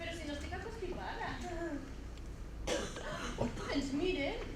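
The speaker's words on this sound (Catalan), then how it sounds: "Podria vostè tossir una mica?" A cough given on request during a stage performance of Oscar Wilde's comedy, a short throaty burst with other voices speaking around it.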